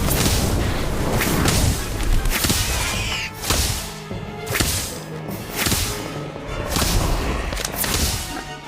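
Incendio fire spell cast in Harry Potter: Magic Awakened, a mobile game, heard as a run of loud whip-like cracks and booming whooshes in fairly regular bursts over busy game effects.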